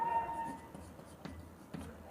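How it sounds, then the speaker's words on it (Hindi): Chalk or marker writing the ammonium formula on a classroom board: faint scratchy strokes with a few sharp taps, quiet and close, with no talking. "यहीं पर लिखते हैं"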